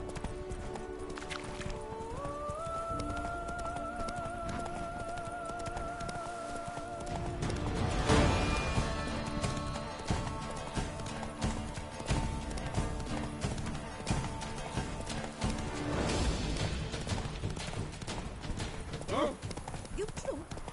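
Horse Roach's hooves clip-clop at a gallop in The Witcher 3 video game, a steady rhythmic beat running throughout with occasional whinnies, over game music and someone talking.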